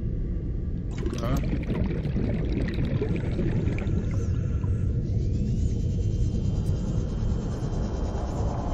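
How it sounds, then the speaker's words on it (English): The Cyclops submarine engine in Subnautica gives a steady low rumble with a watery wash, continuous and moderately loud, with faint mechanical whines and tones on top. "Cyclops engine."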